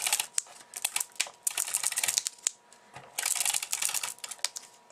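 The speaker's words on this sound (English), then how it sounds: "I'm going to use the Mega Runner by Xyron and get my tape" A Xyron Mega Runner tape runner rolls adhesive tape across a handmade card, producing close, dry bursts of clicking and rasping that come in quick irregular runs with brief pauses.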